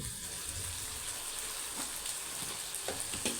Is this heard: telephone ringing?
no